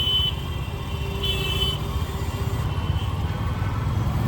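Heavy road traffic in a jam surrounds a motorbike rider, a steady low rumble of idling engines and vehicles with a faint horn-like tone in the mix.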